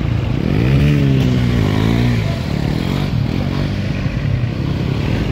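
Motorcycles arriving at an off-road festival, their engines rising and falling in pitch as they ride past close by, with loud revving sustained over steady background rumble and no talk.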